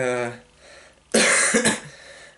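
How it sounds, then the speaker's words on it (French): A voice trails off, then a single harsh cough bursts out close by, followed by a brief rasping throat-clearing sound. "j'ai envie de tousser en fait"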